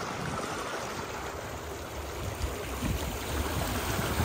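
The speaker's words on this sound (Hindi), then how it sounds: "देखो कितनी प्रेशर से यहाँ पे पानी आ रहा है" Water gushes under pressure from a tubewell, a steady, dense rushing that stays loud and unbroken throughout, with no voices.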